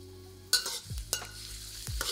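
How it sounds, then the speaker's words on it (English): Garlic stir-fries in oil in a wok over a flame, with a quiet background sizzle broken by three sharp scraping stirs of the spatula. "We'll stir fry the garlic until fragrant, or about 15 to 20 seconds."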